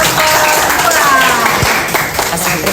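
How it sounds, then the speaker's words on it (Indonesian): A classroom audience claps steadily after a group presentation, a dense patter of applause that holds throughout, with voices mixed in. "Oke, kasih aplaus."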